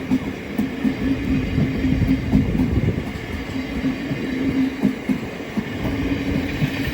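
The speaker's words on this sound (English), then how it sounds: "incoming now will be the 1114 Southeastern service from London Charing Cross to Sevenoaks" Southeastern Class 707 electric train, units 707 010 and 707 011, arriving at Orpington on the South Eastern Main Line: a steady low rumble of rolling wheels with faint rhythmic clicks and a soft whine, fairly close, no voices.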